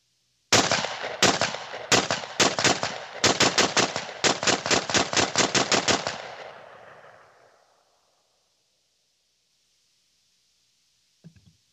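A shotgun fires pellets at an LCD screen in a rapid run of about twenty loud, close blasts over six seconds, then a fading tail and a brief distant clunk.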